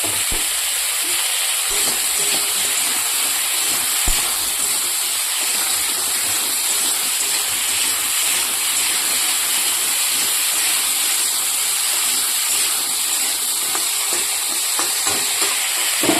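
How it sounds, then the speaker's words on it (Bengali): Cabbage frying in a pan gives a steady, loud sizzle and hiss that runs unbroken throughout, close to the microphone, with a few faint stirring scrapes and no talk. "এই যে বাঁধাকপির ভাজাটা হয়ে গেল"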